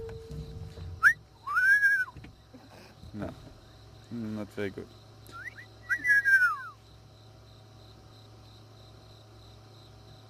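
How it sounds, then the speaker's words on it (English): On an evening safari drive, a nocturnal bird gives several sharp, rising whistled calls in short groups over a quiet background of insect hum, while a person speaks briefly nearby. "Nocturnal animal, nocturnal bird, I mean."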